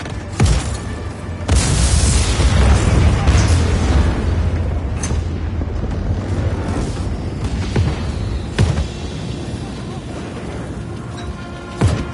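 Booming grenade blast from the Just Cause 4 video game, a loud low rumble with several sharp bursts over about twelve seconds amid continuous in-game action noise.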